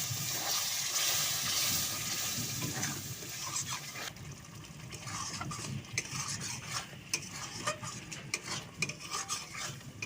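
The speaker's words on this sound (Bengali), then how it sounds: "এবার মশলাটা ভালো করে আমি কষিয়ে নেব" Chicken masala with cashew paste water bubbles and fries in a pan under stirring, with soft sizzle and a scatter of clinks and scrapes from the utensil, fairly quiet and close, no voices.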